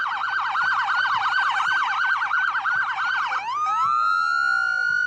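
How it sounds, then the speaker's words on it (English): A police car siren at a parade wails loudly up close in a rapid, warbling yelp, then switches to slower rising and falling tones near the end. "Now you cannot miss the siren on that first car."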